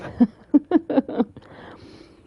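Popcorn crunched in the mouth while eating, five distinct close crisp bursts in quick succession, then quiet with faint background hiss; no talk.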